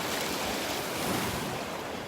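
Small ocean waves break on a Gulf beach at Delnor-Wiggins, giving a steady, close wash of surf with some wind noise and no voices.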